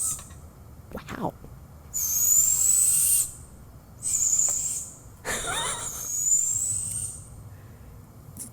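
Three owls trade loud, sustained screeching calls at night in an Animal Crossing backyard, with bursts overlapping and pausing over a steady low hiss.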